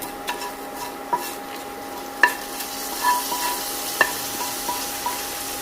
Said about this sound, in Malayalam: താളിച്ചത് കറിയിലേക്ക് ചേർക്കാം